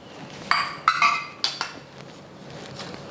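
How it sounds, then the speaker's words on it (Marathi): Semolina is stirred and roasted in ghee in a pan over low heat. A utensil scrapes and knocks against the pan in a few sharp, close clinks, followed by quieter scraping. "रवा मंद आचेवर खमंग खरपूस भाजून घ्यायचा"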